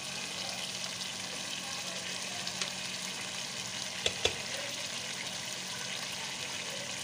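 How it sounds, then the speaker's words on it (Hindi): Rice frying in a pan after vinegar and soy sauce are added, a steady close sizzle holding throughout with a few brief stirring knocks partway through. "अब मैं इनको अच्छी तरह से फ्राई करूँगी।"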